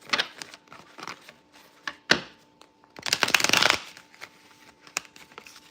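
A stiff, fairly new deck of tarot cards shuffled by hand: bursts of papery riffling and soft flicks come in uneven clusters, with one longer, denser riffle near the middle, close and fairly quiet.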